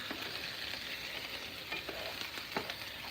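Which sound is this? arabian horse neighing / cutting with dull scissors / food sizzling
food sizzling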